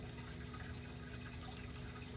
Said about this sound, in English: We're just gonna go and pour the reagent in there